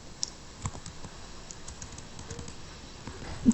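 Soft, sparse key clicks from a computer keyboard as a network switch port-security command is typed, faint and close with irregular spacing and no talking.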